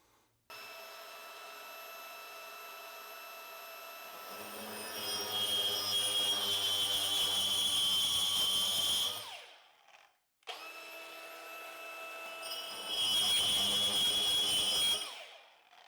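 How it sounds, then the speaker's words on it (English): A power tool whines steadily while cutting a hole through a tub shower wall, in two bursts of roughly nine and five seconds split by a short pause, with the pitch dropping and the sound growing louder as the blade bites into the material. "I just simply want to cut the hole."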